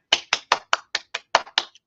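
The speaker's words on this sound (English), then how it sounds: "Clap, clap, clap, clap." Nine sharp hand claps in a quick, even rhythm, loud and close, each one a crisp isolated slap with no talking around them.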